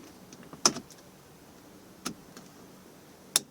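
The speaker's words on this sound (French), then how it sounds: "On a bien entendu le clic de verrouillage ici." A few sharp plastic clicks spaced apart in a quiet space, the first loudest, as an Audi rear window regulator latch snaps into place.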